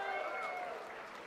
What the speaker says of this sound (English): give this CLG a round of applause again for taking that first game of the day